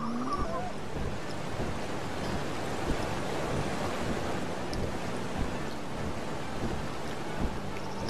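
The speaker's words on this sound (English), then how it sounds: "We're gonna fly right down through that waterfall." Waterfall in Ark: Survival Evolved on Crystal Isles, a steady broad rushing roar of falling water heard up close, constant and even throughout with no voices.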